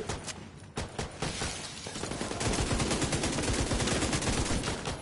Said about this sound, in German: Der hat jetzt schon wieder geschossen einfach!